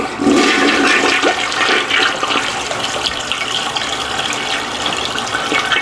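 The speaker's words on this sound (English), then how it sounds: "So we're gonna flush this and see what it looks like." A toilet flushing slowly, its bowl jet partly clogged with calcium buildup, gives a loud, continuous close-up gush and swirl of water that holds steady for several seconds with no voices.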